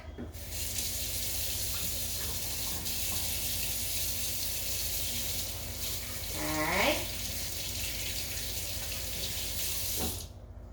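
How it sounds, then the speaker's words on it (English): Water runs steadily from a kitchen faucet into a sink as hands are washed under it, a continuous close rushing stream lasting about ten seconds with a brief splashy change near the middle before it shuts off. "I'm going to wash my hands real quick."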